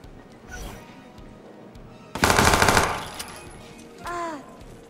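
Gunfire in the video game Watch Dogs 2, a loud burst of rapid automatic shots in the middle of quieter game ambience, followed by a short electronic tone.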